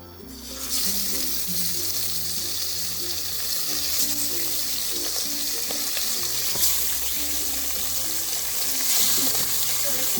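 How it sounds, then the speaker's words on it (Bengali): Pomfret fish pieces fry in well-heated oil in a wok-style kadai, giving a loud, continuous close-up sizzle with faint clinks of utensils underneath. "বেশি মাছ দেবো না, অল্প করে মাছ দিয়ে ভেজে নেব।"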